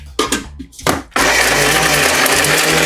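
Coconut pieces grind in a mixer grinder, which roars in abruptly after a second of brief low sounds and keeps whirring loudly and steadily to the end.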